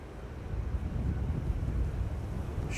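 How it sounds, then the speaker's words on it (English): Wind blowing at Amsterdam Schiphol Airport, a steady low rumbling roar buffeting the microphone, continuous and fairly strong throughout. "Wind has begun to pick up a little bit"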